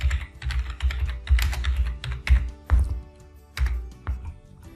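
Someone types a search phrase on a computer keyboard, and the keystrokes come close and crisp. Irregular clusters of taps run for a few seconds, with short pauses between bursts and no talking.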